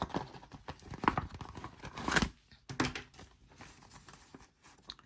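Money being pulled from a paper savings envelope: close, crisp bursts of crinkling and tearing paper, a few sharp rustles separated by short quiet gaps.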